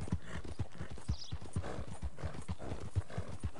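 Horse hooves clip-clopping in a PS4 video game, a steady walking rhythm of close, firm hoof strikes, with a brief whinny partway through.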